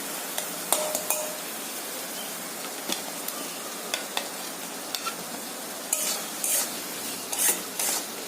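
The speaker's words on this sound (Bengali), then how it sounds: "আলুগুলো দিয়ে একটুখানি ভালো করে কষে নেব।" Potatoes being stirred into a spice masala in a pan for a fig and prawn curry, with repeated scraping strokes and a soft sizzle, close by, growing busier toward the end with no talking.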